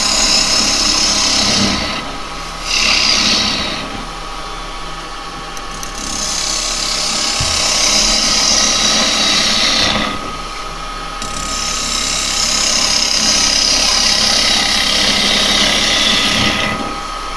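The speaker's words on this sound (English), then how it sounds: "I'm going to use a little 1/4 inch bowl gouge at the moment" Wood being turned on a lathe with a small 1/4 inch bowl gouge while shaping a skull bowl, a loud continuous hiss and whir of cutting that dips briefly at intervals and then resumes, with no talking.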